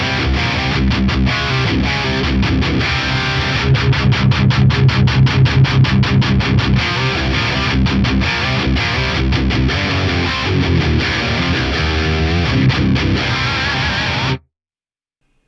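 High-gain electric guitar played through a Fractal amp modeler with heavy distortion, loud and dense riffing with fast chugging bursts throughout, then stopping abruptly near the end.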